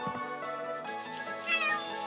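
A cat meows in the Chained Echoes video game while a player pets it, heard as a short, close, tonal cry over layered game music and a light chime.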